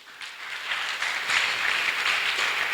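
A church congregation applauds in a steady, dense wash of clapping that swells slightly and holds for about three seconds, with no voice standing out.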